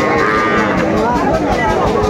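At a village cattle haat where young bulls and heifer calves are traded, a cow gives a loud, close, drawn-out moo that holds for the full two seconds.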